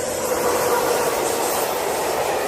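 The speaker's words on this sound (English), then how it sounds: "To my horror, the train whizzed by" A train rushes through a station at full speed, a loud, steady roar of wheels and rail noise filling the whole stretch without letup.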